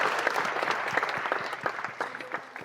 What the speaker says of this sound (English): Please give our heroes a big round of applause.